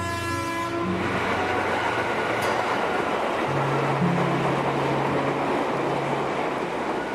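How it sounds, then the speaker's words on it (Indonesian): A train runs along the rail line cutting through a rural Indonesian village, its horn sounding in long steady blasts over a continuous loud rumble and rattle of the passing cars, with no voices. "Rel kereta yang membelah desa menjadi bagian dari keseharian warga."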